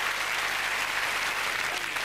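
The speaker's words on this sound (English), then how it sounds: "Our red team, give him a nice big clap." A studio audience at a snooker game show claps warmly for a red-team player, a thick, even roar of applause heard alone and held at a moderate level throughout.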